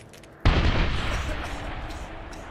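A grenade blast goes off abruptly in the Medal of Honor 2010 video game, a loud boom followed by a long rumbling tail with scattered gunfire and battle noise underneath.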